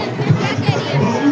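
A large crowd of supporters mills about at a Congress party election event in Burari, a dense near babble of many voices with chatter and movement, brief and loud.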